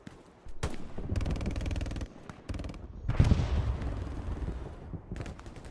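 Artillery and gunfire in the WWII video game Hell Let Loose: sustained machine-gun bursts separated by short pauses, then a heavy booming impact with rumbling decay, all moderately distant and without speech.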